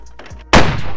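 A shotgun firing antler slugs at a mannequin, a single loud close blast erupting after a few faint clicks and thumps, its rumble trailing through the rest of the moment.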